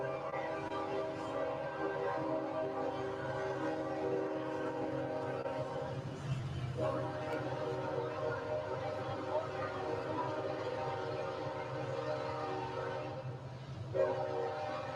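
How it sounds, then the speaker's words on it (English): A train rumbles steadily close by with its horn sustained over the rolling noise throughout, loud and continuous with small surges near the middle and end. "Listen to that train."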